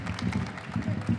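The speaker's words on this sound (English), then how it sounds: "Can we give a nice warm round of applause to Harriet Glickman" Warm audience applause at an NAACP Convention for Harriet Glickman, a brisk mix of clapping hands from a crowd, close and steady with uneven bursts.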